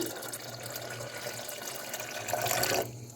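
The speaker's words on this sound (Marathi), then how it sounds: "आता आपण याच्यामध्ये पाणी ओतून घेऊ" Water runs steadily into a container of soaked semolina, swelling louder near the end before cutting off abruptly.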